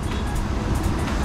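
A 2014 Cadillac Escalade Platinum with a 6.2L V8 and all-wheel drive on the road, a dense, steady rumble of engine and road noise throughout, close and loud with no voices.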